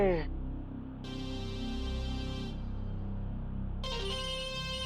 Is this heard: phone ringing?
yes